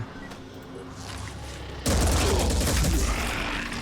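Gunfire in the Phoenix Point video game starts after a quieter, low-rumbling stretch: a loud, dense burst of shooting erupts partway through and keeps going to the end.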